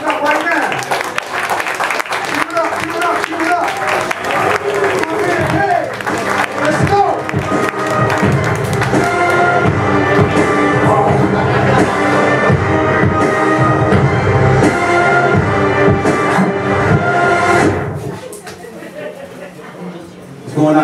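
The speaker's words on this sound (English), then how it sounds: "I want y'all to clap it up right now." A lively open mic comedy crowd claps loudly and steadily for the next comedian, a dense sustained burst with some cheering, fading near the end before a voice begins.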